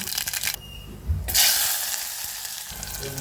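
Mustard and cumin seeds sizzle in hot oil while a Telugu-style drumstick curry is being made, a steady bright frying hiss with a few crackles and clinks of stirring, close up.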